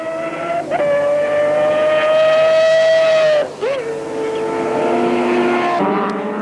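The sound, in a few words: Audi race car engine, onboard during touring car race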